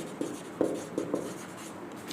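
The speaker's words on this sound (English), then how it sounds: "I am writing like this" Marker or chalk writing on a board during a maths lesson, a few short scratchy strokes in quick bursts, close and fairly quiet, with no talking.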